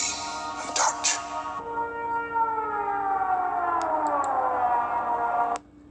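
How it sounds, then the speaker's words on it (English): Apatosaurus trumpet call from the Jurassic World Dominion trailer: a long, loud, moaning wail that slowly bends downward in pitch like a siren, with brief clicks near the start, heard alone before cutting off abruptly. "the sound the Apatosaurus makes"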